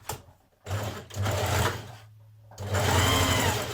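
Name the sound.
sewing machine neatening raw fabric edges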